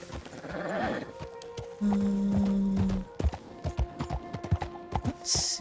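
Horse hooves clip-clopping in Red Dead Redemption 2, a string of close, uneven thuds that follow a snort and a long whinny-like tone, with other game sounds in the background.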